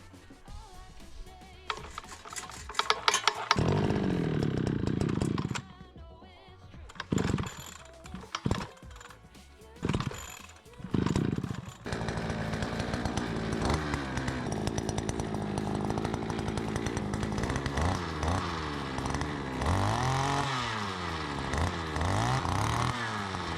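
Gas-powered auger engine, not attached to its auger bit, sputters and revs in bursts before settling into a steady, buzzing run with rising and falling throttle, loud and close, no talk.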